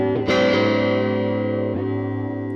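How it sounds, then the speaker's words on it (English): Electric guitar played through a Chase Bliss Spectre through-zero flanger pedal set to a square-wave modulation, giving a loud sustained chord with choppy, rhythmic sweeping, restruck once partway through, with no talking. "if we use the square wave here, we can get some really cool rhythmic effects."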